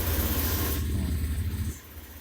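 Motorcycle engine fired up by a smart wifi system, a low rumbling idle that is steady and moderately close for most of the moment and then drops away.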